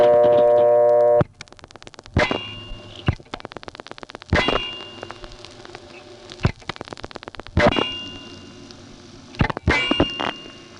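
A 1976 Bell System step-by-step telephone exchange in Gap, Pennsylvania, switches a dialed call. A held tone cuts off into bursts of sharp metallic clacks and rattling relay clicks in uneven clusters, loud and close, with quiet gaps between.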